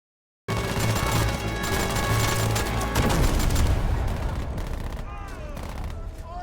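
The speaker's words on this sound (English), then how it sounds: "Tank is getting ready to shoot." A tank in the TV show SAS Rogue Heroes opens fire amid a battle, with loud booming blasts and rapid gunfire over a dense, continuous din, and voices break in toward the end.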